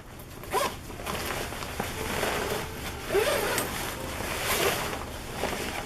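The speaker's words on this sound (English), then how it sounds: "this does have two-way zippers" A two-way zipper on a sleeping bag from a modular sleep system slides in several close, scratchy pulls, with short louder bursts between steady rasping.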